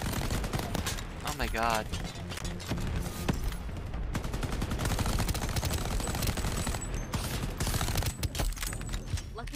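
Rapid gunfire in a video game rattles in dense bursts, near and loud, with mechanical clicks mixed in and a voice exclaiming briefly over the shooting.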